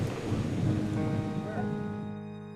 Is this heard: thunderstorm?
yes